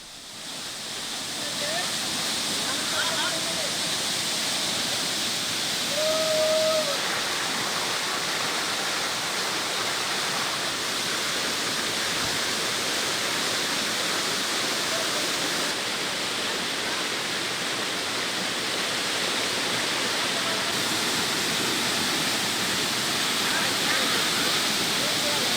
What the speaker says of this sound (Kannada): 50 ಅಡಿ ಮೇಲಿಂದ ಹಾಲ್ನೊರೆಯಂತೆ ಜಲಪಾತ ಧುಮ್ಮಿಕ್ತಾ ಇದೆ ನೋಡಿ.